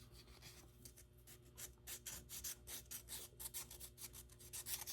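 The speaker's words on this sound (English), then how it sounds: "go back to your hand sanding" Sandpaper rubs by hand over a carved wooden goldfinch in quiet, rhythmic strokes that grow a little louder and faster toward the end.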